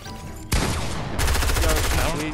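Loud bursts of rapid automatic gunfire in a Fortnite match, beginning abruptly and growing denser, with a faint voice underneath.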